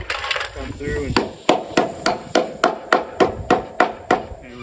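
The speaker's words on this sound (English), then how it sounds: "use your hammer, hammer them in so they're nice and flush" Simpson H2.5 hurricane ties are hammered into a deck beam with about a dozen sharp, evenly spaced hammer blows, close and loud, after a brief shuffle of handling noise.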